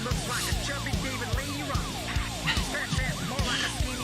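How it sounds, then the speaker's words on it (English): A siren-like wailing tone rises and falls repeatedly over a pounding beat and layered music, loud and continuous throughout. "The police sirens going off."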